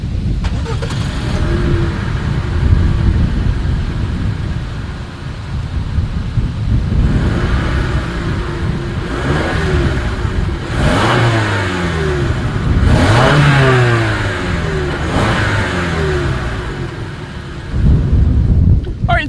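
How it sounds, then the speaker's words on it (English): A car with dual exhaust revs up repeatedly, the exhaust rising and falling in several loud bursts, with a deep rumble throughout. "As always, here is that exhaust clip."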